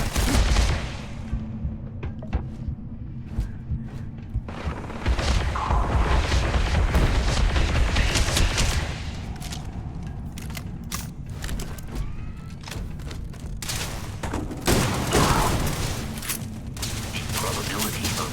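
Gunfire and heavy booms in the video game Starfield, with loud rattling volleys and blasts layered over rumbling mechanical noise throughout.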